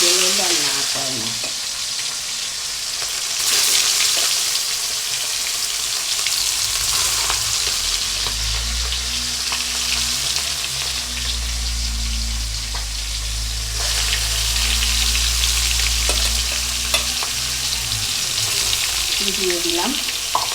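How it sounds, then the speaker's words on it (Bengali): Eight eggs sizzling in a hot pan for a potato and egg curry, with a loud, continuous frying hiss and occasional stirring and clinking from the utensils. "আটটা ডিম দিয়ে দিয়েছে, এখন জাস্ট কুচুনি করে ফ্রাই হবে"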